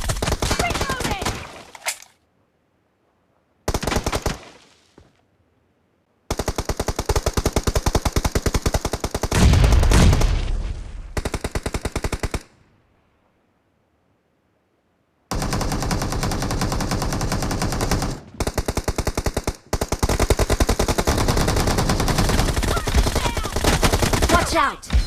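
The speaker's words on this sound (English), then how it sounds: "Watch out! Shots!" Sustained bursts of rapid automatic gunfire rattle loudly and up close, broken by several abrupt silent gaps between long volleys.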